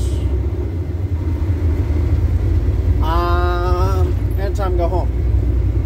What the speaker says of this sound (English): I have been driving for 13 and a half hours.